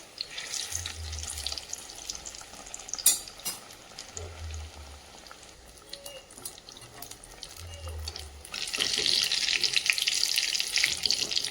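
Green chillies, some of them very large, fry in hot oil with a soft bubbling sizzle, intermittent low thumps and a brighter, louder hiss building toward the end, fairly quiet overall with no one speaking.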